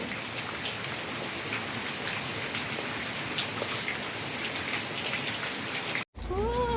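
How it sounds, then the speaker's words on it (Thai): Steady rain pours down in a dense, continuous hiss of drops on surfaces, close and even throughout, broken by a brief dropout near the end. "ฝนตก"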